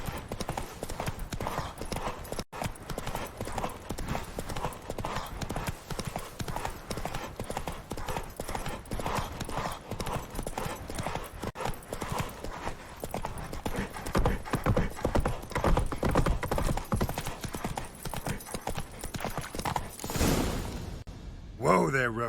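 Roach, Geralt's horse in The Witcher 3, trots with steady clip-clop hoofbeats that run almost unbroken throughout, close and fairly loud, with occasional voices over them and a brief whoosh near the end.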